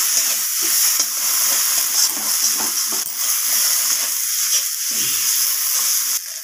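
Ginger-garlic paste sautéing with spices in a pan, a loud, continuous close sizzle with soft scraping stirs breaking through now and then.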